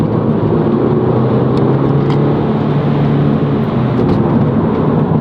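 An Audi TT with a DSG gearbox accelerates hard, its engine a loud, steady, close roar that holds without pause and with no talk over it.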